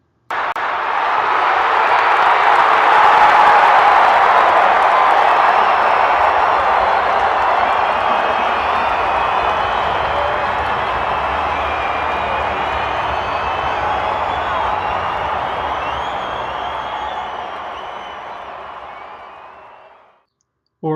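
A huge stadium crowd roars in one loud, sustained wash of noise for about twenty seconds before cutting off.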